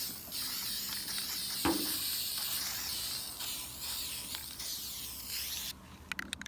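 A spray paint can hisses steadily while touching up a car hood, spraying continuously for several seconds with a brief thump partway through, before stopping into a few faint clicks.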